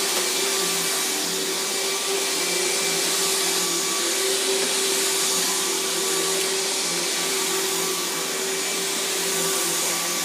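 A vacuum hose runs steadily along the edge, sucking up debris with a constant loud droning hum and airy rush that never lets up, with no voices.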